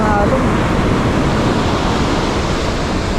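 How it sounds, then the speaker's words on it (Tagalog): Strong ocean waves break on Torrey Pines beach in La Jolla, a steady loud wash of surf that roars evenly throughout, blended with wind against the microphone and no voices standing out. "Lakas ng mga alon."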